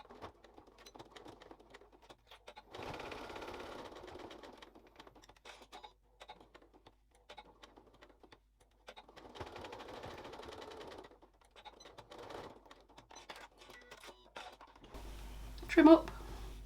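A domestic sewing machine stitches around a small felt case with a back tack at each end, making two sustained bursts of fast, even whirring with softer handling noises between them.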